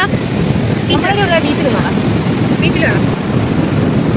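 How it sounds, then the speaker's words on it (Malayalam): Strong wind blows in from the sea at the beach, roaring and buffeting the microphone loudly throughout, with waves in the background and a person speaking over it. "ഇന്ന് കടല് നല്ല കാറ്റുണ്ട്"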